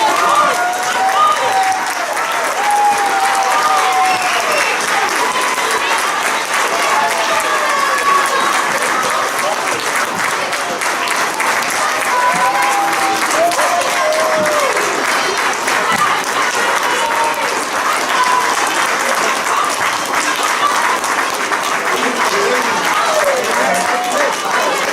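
Sustained applause from an audience honoring the 2018 Ken Lavern Award winner, dense and steady clapping at full volume for the whole stretch, with scattered cheers and voices mixed in.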